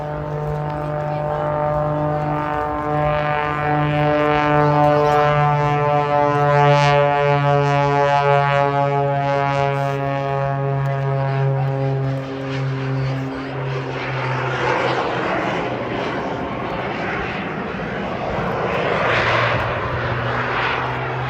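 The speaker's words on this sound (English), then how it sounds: "That Lycoming engine, I'm very used to the sound of it, but you'll hear this sort of whoosh" A propeller aircraft's Lycoming piston engine at an RAF airshow in Blackpool drones steadily and loudly with a rich harmonic hum, then spools up into a rising, airy whoosh that swells in the later seconds.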